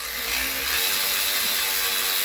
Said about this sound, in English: with my electric ratchet. So first you're going to start by doing all of the bolts